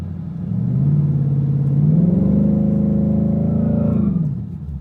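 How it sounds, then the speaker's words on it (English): A car with a new FTI torque converter, in drag mode with traction control off, held on the foot brake while the engine revs up, a loud close rumbling rise that holds steady and then drops away. "So all I'm going to do is press the brake and bow the car up until it spins."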